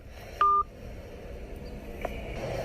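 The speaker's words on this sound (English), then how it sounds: "He just hung up the phone." A single short electronic phone tone sounds as a call is hung up, a clear beep followed by faint line noise and low background hum.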